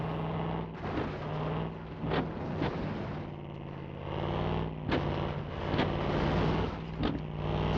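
Sustained car engine drone with a steady low hum, held throttle in a BeamNG Drive driving simulation game, loud and continuous with intermittent thumps and bangs.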